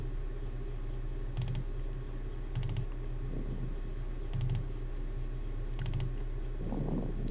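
Fingers click away on computer keyboards in quick, separated bursts during a typhoon landfall broadcast, faint and close over a steady low room hum, with no voices.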